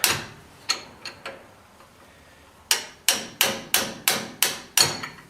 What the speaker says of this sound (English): try and hammer this off